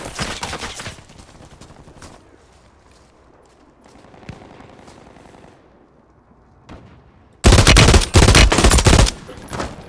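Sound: gunfire in the video game Call of Duty Warzone, Urzikstan

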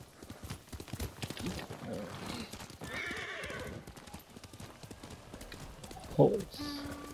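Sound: horse galloping and neighing in the video game Ghost of Tsushima

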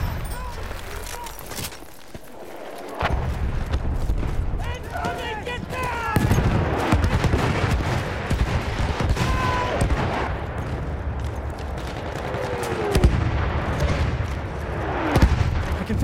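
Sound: enemy artillery barrage from Battlefield video game

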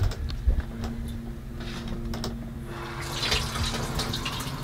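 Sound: water filling a Kuppet portable washing machine

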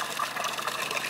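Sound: water flowing at Shucknall Spring

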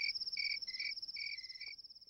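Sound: crickets chirping

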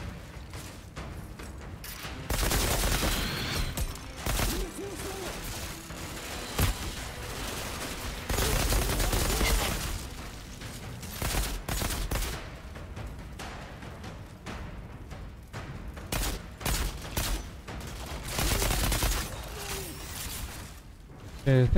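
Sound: gunfire from a weapon in the video game Outriders

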